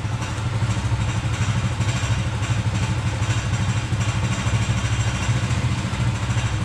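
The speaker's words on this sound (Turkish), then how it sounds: "Yavaş yavaş rolantiyi yükseltmeye çalışıyorum." An engine idles roughly and steadily with a pulsing, clattering throb while its idle speed is slowly raised. The motor struggles to take throttle, and the sound stays loud, close and unbroken throughout.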